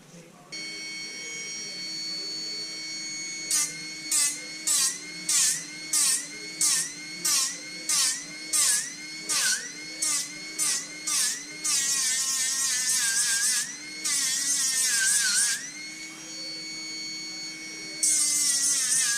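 Orbital sander with 180 grit abrading a sterling silver turquoise shamrock ring, a high whining buzz in a dozen short rhythmic bursts, then longer sustained runs, with a low hum beneath and occasional talk.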